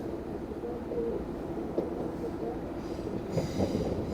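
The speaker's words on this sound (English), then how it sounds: "Train coming into Enfield Station" A train rumbles and clatters steadily as it slows into Enfield Station, wheels squealing faintly on the rails, with a sharp metallic click partway through.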